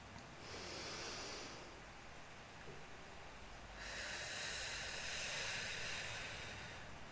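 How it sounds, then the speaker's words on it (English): A slow, steady breath exhaled close to the microphone, a soft airy rush that swells and fades, followed by a second longer exhale, heard alone in a quiet room. "Another one. Exhaling."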